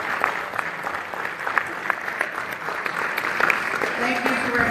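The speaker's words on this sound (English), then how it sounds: "let's give them a nice round of applause" Room applause for students at a Belport school board meeting, a steady round of many hands clapping at moderate volume with some voices mixed in.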